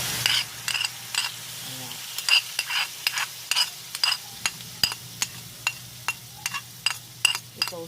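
Pork lungs for igado stir-frying in a pan: a constant low sizzle broken by a regular series of sharp metallic clinks and scrapes from the spatula against the pan, with a brief spoken word.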